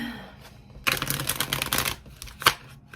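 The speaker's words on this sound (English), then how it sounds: "If I can shuffle this deck." A small White Sage Tarot deck being shuffled by hand, a short burst of riffling card flutter after a quiet start, ending in one sharp snap of the cards.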